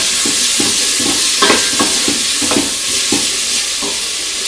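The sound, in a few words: onions and bacon lardons frying in a pan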